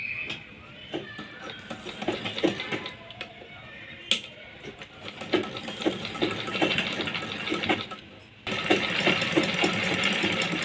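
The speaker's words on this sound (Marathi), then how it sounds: "आपल्याला शिलाई मारून घ्यायची आहे" A sewing machine stitches a fall onto the edge of a saree, giving a steady mechanical whirr with ticking needle beats that runs nearly throughout and grows louder and more continuous near the end.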